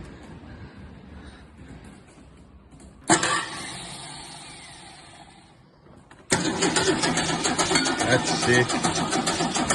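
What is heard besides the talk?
Holden LC Torana engine cranking and starting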